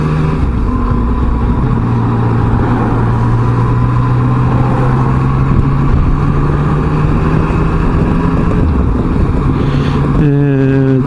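A Yamaha Tracer 900 motorcycle engine runs loudly and steadily while the bike is ridden, its droning hum slowly rising in pitch with a brief change near the end.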